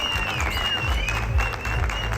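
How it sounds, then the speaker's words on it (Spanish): A crowd of spectators at the Siberian Husky national specialty show in Mexico, 2022, breaks into sustained applause and cheering, a dense steady wash of clapping with a whistle weaving through it, loud and close throughout. "los aplausos y las porras no se hacen esperar"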